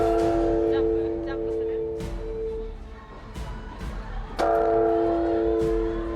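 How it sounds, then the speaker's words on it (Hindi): Large Buddhist temple bells ring out at New Year in Japan, a deep sustained tone struck again partway through, with crowd noise and murmuring voices around it. "जापान में परंपरा के मुताबिक नए साल पर बौद्ध मंदिरों में 108 बार घंटियां बजाई गई"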